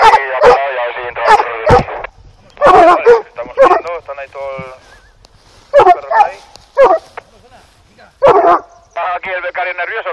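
Several dogs bark and yip in short bursts at a busy outdoor spot, with people talking over and between the barks throughout.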